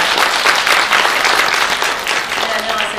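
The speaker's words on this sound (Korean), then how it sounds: "큰 박수 부탁드립니다." Loud, dense applause from a forum audience welcoming a presenter at an international forum, a steady close wash of clapping throughout.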